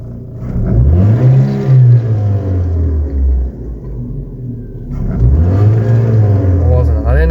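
A Daewoo Matiz with a 1.2 litre Spark engine and automatic gearbox revs twice, each rise swelling and falling in pitch, with a steady low engine note between the revs and someone talking over it.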